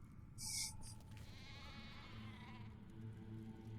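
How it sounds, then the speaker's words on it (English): A sheep bleats a few times in a wavering, nasal cry over a low ambient hum, with a short sharp chime at the start, game audio from The Elder Scrolls IV: Oblivion. "Making sheep noises."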